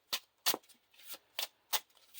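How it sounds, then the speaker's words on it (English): Playing cards for a Lord of the Rings card game being shuffled by hand, five or six crisp riffling bursts in an uneven rhythm, close and clear with no talking. "shuffle cards in until you get a location"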